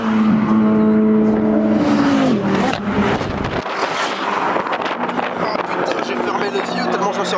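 A Ferrari engine at a burnout event revs with a steady high tone that rises and drops, loud and close, then gives way to rough roaring, with crowd noise and voices around it.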